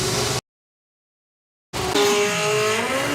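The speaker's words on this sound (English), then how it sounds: "such a unique noise from the Storm machine, because it's essentially a small turbo feeds a big turbo, which then feeds the engine" A compound-turbo Funny Bike drag racing motorcycle, a small turbo feeding a big turbo, roars at a national finals drag strip, cutting out briefly before returning as a loud, rising engine scream with turbo whine.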